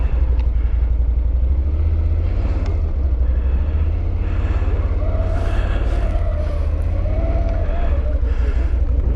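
Can-Am Outlander 1000R MAX XTP ATV riding up the block, its engine a steady, smooth low rumble throughout with a slight rise in pitch partway through, heard close up without talk.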